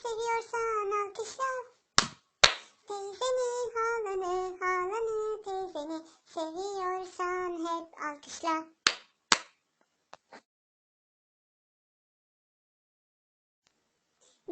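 Sharp hand claps punctuate a Turkish children's clapping song, landing in pairs between sung lines, with a few scattered claps trailing off after the singing stops.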